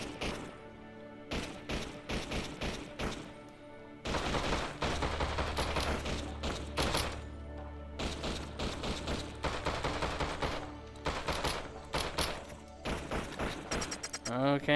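Rapid bursts of AR-15 gunfire in a video game, sharp repeated shots in fast clusters with short pauses between volleys, punctuated by a few heavier thumps, fairly quiet overall.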